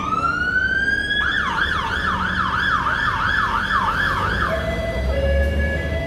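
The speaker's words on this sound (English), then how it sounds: "There's a lot of sirens going off." A loud wailing siren sweeps rapidly up and down, steady and close, over a constant rumble of traffic.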